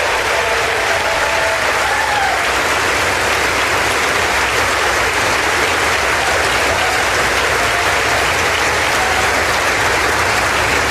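A crowd breaks into loud, sustained applause, dense clapping from many people that stays steady and close throughout.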